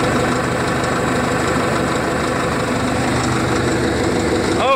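A Caterpillar D7E bulldozer's diesel engine idles close by, a steady, even rumble with a faint rhythmic knock, heard alone without any talk.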